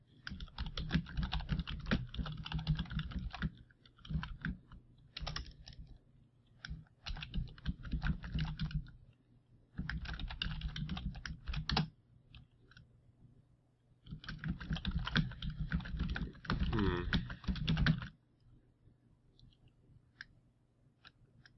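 Rapid clicking of a computer keyboard comes in several dense bursts separated by short pauses, close and fairly loud, typed between rounds of the Hearthstone card game.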